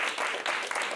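Audience applause at a French workshop on pitching, a brief burst of dense clapping from a room of people.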